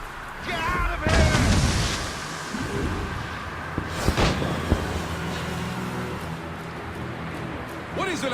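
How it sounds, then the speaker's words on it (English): Mortar fire during a naval battle in Assassin's Creed Rogue, heavy booms and sharp cracks landing amid a busy din of shouting voices and ongoing battle noise. "Mortars!"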